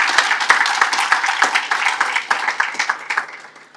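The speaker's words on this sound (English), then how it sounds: "Can you have another round of applause?" A small audience applauds at the opening of a regional commission conference, with distinct overlapping hand claps close by, fairly loud and irregular, sustained for a few seconds.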